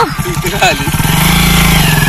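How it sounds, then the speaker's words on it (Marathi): A motorcycle engine close by settles into a steady, loud running rumble after a brief stretch of talk at the start. "आता तर आम्ही बाईकने जातोय."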